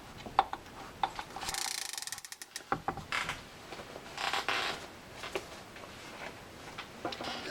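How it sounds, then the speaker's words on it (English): A Shimano TLD 25 fishing reel clicks and whirs as its parts are handled and the spool spins freely after reassembly, giving a quiet, close ratcheting with a brief buzzing spin near the start. "You see that we have a beautiful free spinning reel."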